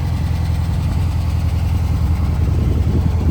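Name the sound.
1964 Volkswagen Beetle engine idling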